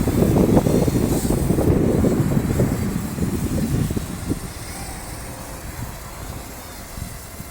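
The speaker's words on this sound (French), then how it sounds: "Donc là il y a un peu de vent" Steady wind buffeting a microphone outdoors during a Parrot Mambo mini drone flight, loud low rumble at first that eases off over the second half, with no voices.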